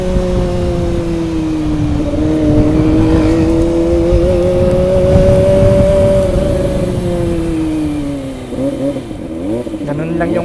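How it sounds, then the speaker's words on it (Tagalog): Kawasaki ZX25R with an inline-four engine revving on a city ride in Baguio, a close high-pitched wail rising and holding, then dropping into quick blips near the end. "pag naririnig ko yung ganong scream ng inline 4"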